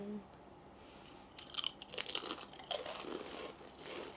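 Crunchy Vietnamese snack being bitten and chewed close to the mic, a run of crisp crunches and crinkles after a quiet start, with faint voice in the background.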